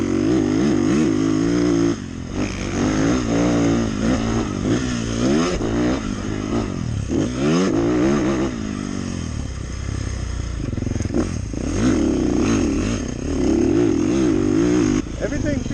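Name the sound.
Beta 450RX dirt bike engine revving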